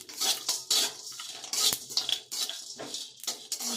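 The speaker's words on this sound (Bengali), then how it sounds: "মশলাগুলো ভালোভাবে ভাজা হয়ে গেছে," Whole spices such as cardamom, cloves, cinnamon, mace and peppercorns dry-frying over low heat, with repeated metal spatula scrapes and clinks against the pan in an irregular stirring rhythm, close and clear, no talk.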